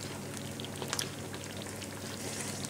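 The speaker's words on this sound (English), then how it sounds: "you need to keep it boiling away until you've reached the setting point" Rhubarb and orange jam boiling in a pan, a steady dense bubbling and spitting hiss that runs throughout, close and fairly loud with a few sharper pops.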